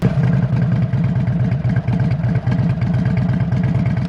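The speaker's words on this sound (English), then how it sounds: "you're going to want to start the bike up and let it run for at least 30 seconds to mix the oil into the engine" An Indian Super Chief Limited motorcycle engine idles close by, a loud, steady low throb with a quick regular pulsing beat.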